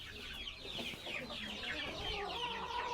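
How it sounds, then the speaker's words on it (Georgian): Hens clucking continuously in a yard full of chickens in the Lagodekhi area of Kakheti, Georgia, a dense overlapping chorus of near and mid-distance calls with no talk. "ნახე სავსეა ეზო ქათმებით. რა კაი დედლები არიან."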